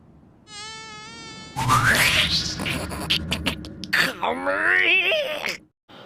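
In an anime, a high, whining buzz of mosquitoes hovering beside someone's ear rises and wavers loudly, mixed with gasping, groaning vocal sounds.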